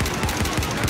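Rapid automatic gunfire from an SKS-style rifle in a shooter video game, a dense burst of loud repeated shots running continuously throughout without talk.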